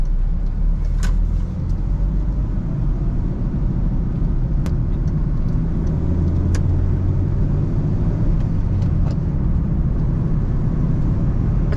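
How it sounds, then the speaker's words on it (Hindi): A 2006 Honda City sedan accelerates on the road in Islamabad, its engine droning steadily over heavy road and wind rumble heard from inside the cabin. "अभी मैं इसका 0 to 100 भी करूँगा और ब्रेक टेस्ट भी मैं साथ में ही करता चलूँगा।"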